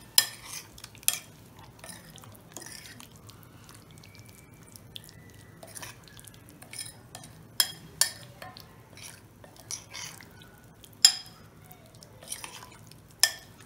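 A yogurt marinade for aloo do pyaza is mixed in a bowl, with a spoon clinking and scraping in irregular, close taps and soft wet stirring, and no talk.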